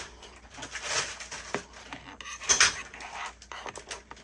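A knife saws and taps through a homemade banana nut bread, likely on a plate or board, with scattered clinks and scraping strokes. Close and intermittent, no talking.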